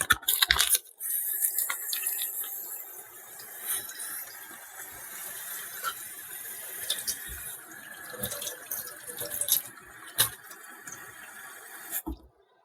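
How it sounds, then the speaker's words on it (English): A container is rinsed under a running kitchen tap, with steady splashing water and scattered clinks and drips, fairly quiet and close, ending with a brief louder splash. "I'm going to rinse this out."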